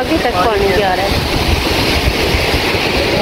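Ocean surf washes up a beach in steady, continuous broadband rushes close to the microphone, with wind noise mixed in and a voice speaking briefly near the start.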